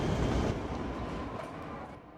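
Trams in the Cities: Skylines city-building game rumble along their tracks with a steady low rolling drone that thins and fades toward the end.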